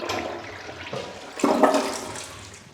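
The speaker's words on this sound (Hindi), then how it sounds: "फ्लश कर दीजिए" A toilet is flushed up close, giving a sudden loud rush of water that starts partway through and swirls on to the end, with quieter bathroom background before it and no voices.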